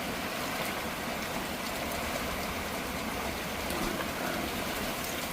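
Heavy monsoon rain pours down without letup onto a driveway and ground where water pools, a dense, even hiss of falling water heard close and alone.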